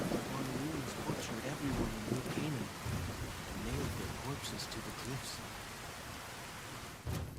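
Thunderstorm with steady rain in the video game Fallout: New Vegas, a constant rushing wash with low rumbles of thunder, while a voice talks over the first half.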